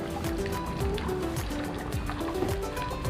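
Water from a fountain splashing steadily into a six-ton koi pond, a continuous close bubbling and trickling wash with no pauses.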